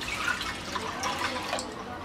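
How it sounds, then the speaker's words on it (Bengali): Water poured into a cooking pot holding washed lentils, a steady splashing trickle lasting about two seconds at a moderate level, with no talking. "দিয়ে দিচ্ছি পরিমাণ মতো পানি"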